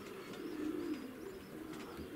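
Pigeons coo softly and low while feeding, a faint, continuous murmur of calls with a few light chirps, no voices.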